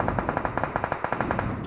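Rapid automatic gunfire in the mobile battle royale game BGMI, aimed at a vehicle, with a steady run of loud, close, evenly spaced shots.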